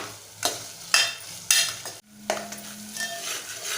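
Chopped tomatoes sautéing in oil for a spicy chicken curry, sizzling steadily while a spoon stirs and scrapes the pan in a few loud strokes, with a brief quieter gap before the frying resumes.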